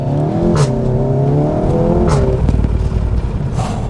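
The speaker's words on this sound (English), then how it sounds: "Those DSG pops are so loud on this thing." A 2018 SEAT Leon Cupra 300 hot hatch with a DSG gearbox and no resonator delete revs loudly up close, the engine note rising and falling before sharp exhaust pops and crackles burst out on the shift.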